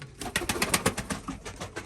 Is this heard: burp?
no